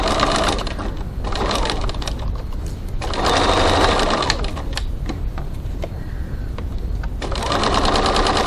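A sewing machine stitches a crossbody bag seam at a 2.4 stitch length, running in loud, steady bursts with brief pauses between runs, close up and with no talking.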